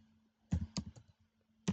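A handful of scattered keystrokes on a computer keyboard, quiet and close, with brief pauses between the clicks and no voices.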